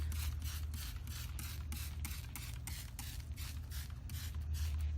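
A steady series of short hissing spray bursts of Impact cleaning degreaser repeats in quick rhythm, close and fairly quiet, over a low mechanical hum.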